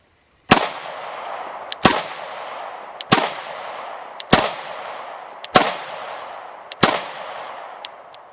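Six sharp, loud firearm reports ring out at a steady pace about every 1.2 seconds, each with a crisp attack and a short decaying echo, and faint clicks sit between the shots.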